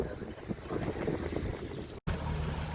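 A sailboat motor-sails under jib on Chesapeake Bay at about 2,000 RPM and just over 7 knots, giving a low steady engine drone mixed with wind and water rush, fairly quiet and continuous.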